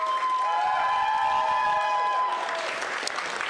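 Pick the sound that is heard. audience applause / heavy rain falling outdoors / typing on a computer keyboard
audience applause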